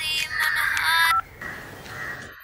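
Telephone keypad dialing tones play over a speakerphone as a handful of quick, clear beeps that come in a short run, then a pause, then one longer tone.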